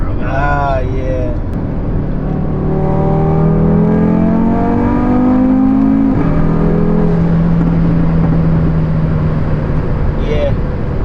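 An Audi RS3 accelerates hard through its gears, the engine note climbing in long sweeping rises with brief drops at shifts, loud and close from inside the car, while people talk over it.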